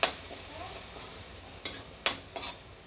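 Black chickpea curry stirred and frying in a pan, a steady sizzle with several sharp scraping stirs of the spoon, close and alone.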